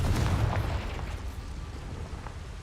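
A Confringo spell blast in Hogwarts Legacy: a muffled explosive boom at the start that rolls into a rumbling, crackling decay, moderately quiet overall.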